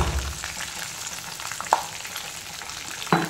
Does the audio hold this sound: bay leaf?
yes